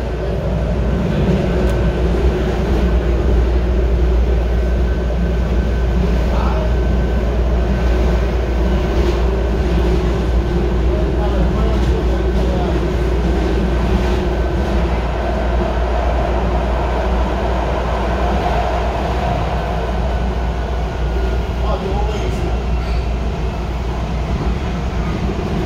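Miami Metrorail train riding between stations, heard from inside as a steady, loud rumble and rolling hum with faint clicks and rattles throughout, no talk.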